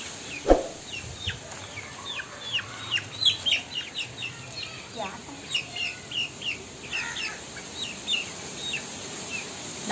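Soft, repeated clucking from a black chicken close by, in short irregular bursts over low background noise.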